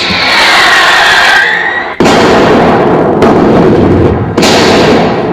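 Stage sound effect of artillery shells exploding during a theatre play, loud sustained blasts and crackling bursts with sharp new detonations near the two- and four-second marks, no speech.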